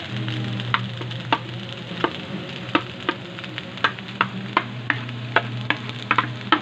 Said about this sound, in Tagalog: Maglalagay na natin yung itlog natin na iniwa-iwa.